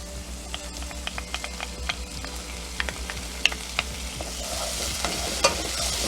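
Garlic sizzling as it goes into a pan of frying shallots, a steady soft frying hiss with scattered light clicks and pops from stirring, close and alone with no talk.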